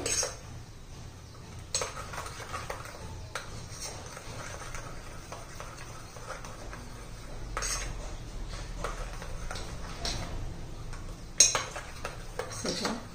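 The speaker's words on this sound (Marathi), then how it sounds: "साखर विरघळेपर्यंत आणि दही एकदम एकसारखं होण्यासारखं साठी हे चांगलं हलवून घ्यायचं, फेटून घ्यायचं" Curd being whisked with sugar in a bowl, a spoon or whisk clinking and scraping against the sides in irregular strokes, with a few sharper knocks.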